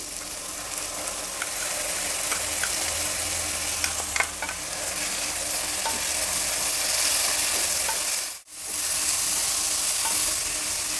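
Freshly ground masala sizzles in a hot pan as it is stirred, a steady close frying hiss with light scraping and a brief dropout near the end.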